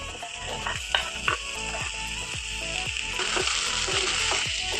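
Chopped tomatoes added to potatoes and onions already frying in a pan for an egg curry, giving a steady sizzle throughout, broken by a series of scraping stirs roughly every half second.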